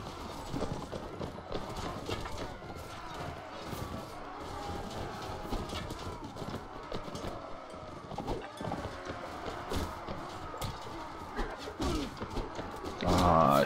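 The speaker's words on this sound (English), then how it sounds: "cavalry charge" Cavalry charge in the Mount & Blade Warband video game, with a dense, steady thunder of many hooves clip-clopping across the battlefield, loud and continuous throughout, rising slightly at the very end.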